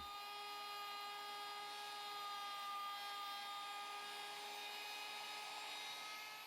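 A router trims a veneer edge along a plywood base, its bearing riding the surface, making a steady high-pitched motor whine with a constant tonal hum throughout, fairly quiet and alone without speech.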